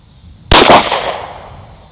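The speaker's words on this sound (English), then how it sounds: "that was a Glock 43 with the 180 Critical Duty 135 grain Flexlock plus P" A single sharp gunshot from a Glock 43 firing Hornady Critical Duty 135 grain +P 9mm Flexlock ammunition, loud and close, with a short ringing decay afterward.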